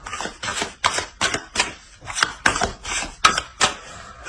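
Tarot cards are handled and laid onto a spread in a rapid series of crisp slaps and flicks, about a dozen close, sharp taps in a steady rhythm.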